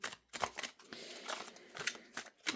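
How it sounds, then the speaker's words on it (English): Tarot cards shuffled by hand in a quiet room, giving a run of soft papery riffles and snaps in short bursts, close and fairly faint. "Let me shuffle."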